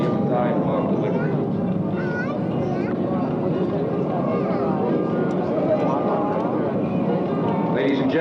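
An A-6 jet roaring past at an airshow during a pop-up attack demonstration, a constant heavy engine rumble with a shifting whine, loud and sustained, while an announcer talks over it.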